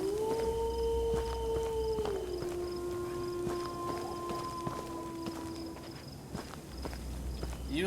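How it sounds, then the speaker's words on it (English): Dogs in the horror video game Them And Us let out a long drawn howl that bends down in pitch and fades, with soft footsteps and game ambience underneath. "I hear more dogs."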